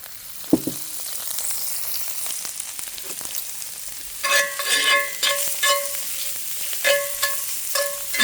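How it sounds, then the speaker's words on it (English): Oyster mushrooms frying in olive oil in a pan: a steady close sizzle and crackle that grows louder and busier partway through as more oil goes in, with occasional stirring knocks and no talk. "This is going to help fry this with a little more olive oil."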